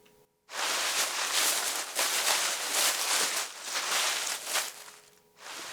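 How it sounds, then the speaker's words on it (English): A family plays in dry autumn leaves outdoors, with continuous loud crunching and rustling as they shuffle and kick through the pile, steady for several seconds with brief pauses at the start and end. "A family playing in the leaves."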